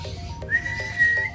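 A person whistles to call pet birds for free-flight training, giving a few short, clear, high notes including a rising sustained tone, heard alone and close.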